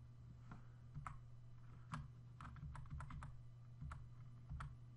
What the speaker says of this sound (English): let's just try to align that into position using my arrow keys on my keyboard